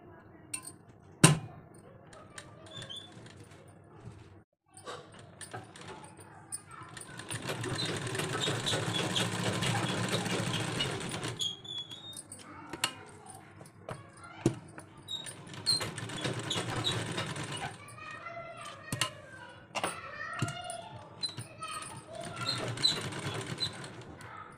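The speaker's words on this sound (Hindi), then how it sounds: "अब यहाँ पे सिलाई करेंगे हम बहुत ही केयरफुली।" A sewing machine runs in two longer stitching bursts on kurti fabric. Scattered clicks and handling noises fall between the runs, and the stitching is fairly quiet and close.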